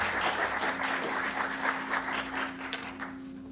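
An audience claps steadily to welcome a professor taking the stage for a lecture, a dense, sustained applause that stays fairly even throughout without fading out.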